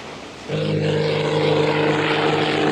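A propeller airplane drones steadily in a scene from the 1987 film Jaws: The Revenge, its engine hum starting suddenly and holding loud and constant with no talking.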